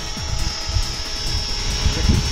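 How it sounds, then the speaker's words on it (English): A small XHeli Blue Ray radio-controlled helicopter hovers outdoors with a steady high-pitched rotor whine and motor buzz, close and continuous, while low rumbles and thumps sit underneath. "Pretty smooth helicopter."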